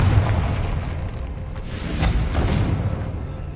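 A Confringo blasting curse goes off in Hogwarts Legacy on PS5, a loud booming explosion with a rumbling low-end tail and a second swell of blast noise partway through, no talking.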